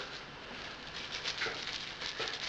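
Freshly harvested wet hop cones, green with slight browning at the edges, give a steady, close papery rustle with soft crinkling patter throughout and no voices.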